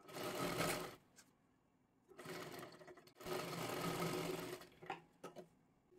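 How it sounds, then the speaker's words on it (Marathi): A sewing machine stitches a strip onto a 38-size princess-cut blouse in short, close, rapid bursts with brief pauses between runs, ending in a few quick stitch taps. "असं आता फोल्ड करा आणि 5 नंबरची शिलाई मारा"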